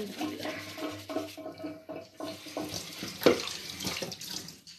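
Tap water running into a kitchen sink during dishwashing, a continuous splashing stream with clinks and knocks of dishes being handled close by, steady throughout.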